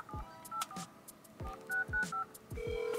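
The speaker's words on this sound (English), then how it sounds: "Let me try to call one more time." Telephone keypad tones as a number is dialed on a phone, a quick irregular series of short beeps followed by a steady tone, fairly faint.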